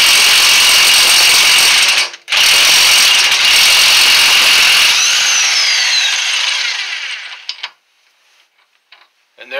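An electric power tool runs loud and close while tightening an axle nut on a 1991 Mazda 626, a sustained whirring rattle that cuts out briefly, resumes, then winds down to silence.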